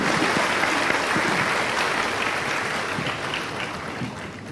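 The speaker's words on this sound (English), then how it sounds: "another round of applause for His Excellency Tun Mahathir" Crowd applause at an open dialogue with the Malaysian prime minister, loud sustained clapping from a large audience that stays dense throughout and tapers slightly toward the end.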